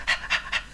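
A dog panting in three quick, evenly spaced breathy huffs, close and clear with nothing else around it.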